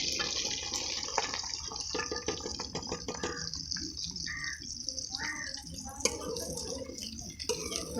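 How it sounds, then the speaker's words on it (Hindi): Okra dropped into hot oil to fry, a close, crackling, bubbling sizzle with irregular pops and spatters, with a voice faintly in the background at points. "हमारा ऑयल जो है वो गर्म हो चुका है। अब हम इसमें डाल रहे हैं भिंडी।"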